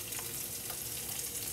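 Onions fry in olive oil in a pan, a constant bright sizzle and crackle close at hand, steady and unbroken with no voices.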